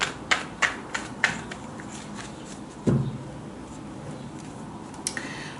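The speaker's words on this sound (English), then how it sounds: "I will shuffle this now." Several quick papery snaps and soft riffles of tarot cards being shuffled by hand, close up, with a brief louder flutter midway and quiet gaps between.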